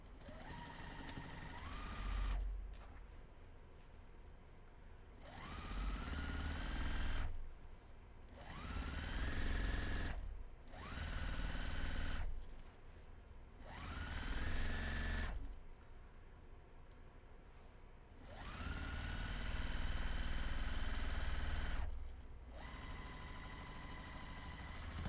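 A sewing machine stitches a 1/2 inch seam in about six separate bursts, each motor run whirring up in pitch before stopping, with short reverse back-tacking passes in a quiet room.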